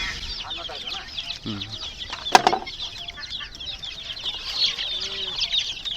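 Sonali chickens cluck in short bursts amid a busy farmyard din during a sale, with a sharp flapping or squawk burst near the middle and a faint voice underneath.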